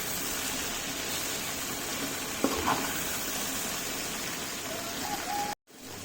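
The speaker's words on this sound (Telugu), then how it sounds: "చూసారా బెండకాయలు అయితే ఎంత సాఫ్ట్గా ఫ్రై అవుతున్నాయి" Okra frying in a pan with turmeric and salt gives a steady, close, rain-like sizzle throughout, with a brief knock partway and a short cut near the end.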